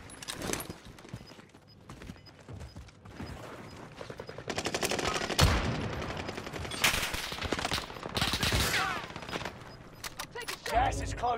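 Heavy gunfire in a Call of Duty Warzone match: rapid bursts of automatic fire and single shots crackle loudly through a chaotic firefight, with shouted voices scattered among the shots.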